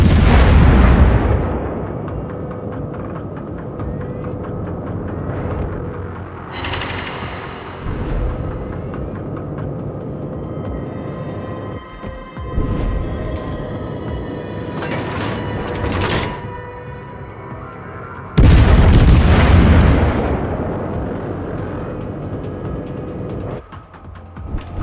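Gunfire and explosions from the robot combat game War Robots on the Shards map, with heavy booming blasts, mechanical clanks and rattling shots in bursts across the stretch, some loud impacts standing out.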